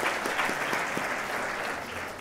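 An audience at the 2012 Bryden Awards ceremony applauds the event's sponsors, a steady, dense wash of clapping from a full room that holds evenly throughout and tapers slightly at the end.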